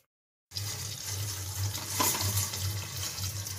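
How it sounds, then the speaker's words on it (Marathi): Crabs are rinsed under a running kitchen tap for crab masala. After a brief silence, water gushes in a close, steady stream, with splashing changes as the crabs are handled. "खेकडे स्वच्छ पाण्याखाली धुवून घेत आहोत आम्ही."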